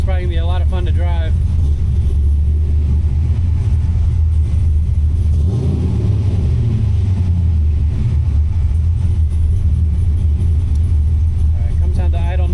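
An LS V8 swapped into a Mazda RX7, tuned with a Holley Terminator X, running loud and close with a deep continuous rumble that settles toward idle, while people talk over it.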